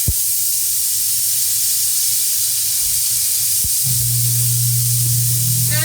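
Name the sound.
water sizzling in hot pan with portobello mushrooms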